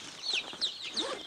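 Chicks peep in a rapid, high-pitched, chirping chatter with a few soft clucks mixed in, close by and continuous in a backyard setting.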